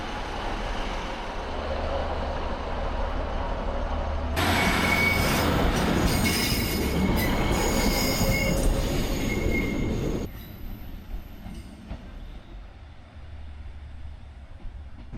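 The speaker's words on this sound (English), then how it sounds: "we begin our approach into the junction station of Grosmont" A train on the Esk Valley Line pulls into Grosmont station, its wheels squealing loudly and close for several seconds over a steady rumble of carriages, then easing back to a quieter run.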